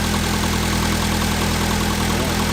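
A Toyota MR2 engine idles smoothly after starting, a loud, close, steady mechanical hum with an even low pulse and no change in revs.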